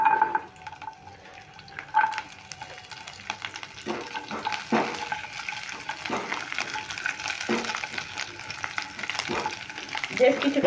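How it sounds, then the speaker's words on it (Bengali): Garlic cloves sizzling in hot oil in a pan for potol bhorta, with steady frying crackle and repeated scraping stirs of a spatula, close and fairly loud throughout. "রসুনটাকে একটু নেড়ে চেড়ে ভালো করে ভেজে নেব।"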